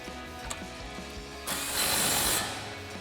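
A 17mm nut being tightened onto a sway bar link at the knuckle of a 2005-2023 Toyota Tacoma, with a few light ratchet clicks followed by a louder burst of rapid, close ratcheting lasting about a second.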